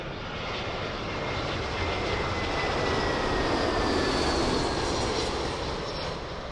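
An airliner in a 100 years independence livery landing at Heathrow, a steady broadband jet roar that swells gently and holds, heard alone without talk.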